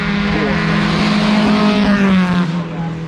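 A 1958 racing car with a 2.5-litre four-cylinder engine roars past at close range, loud and rasping, its pitch sliding down as it goes by.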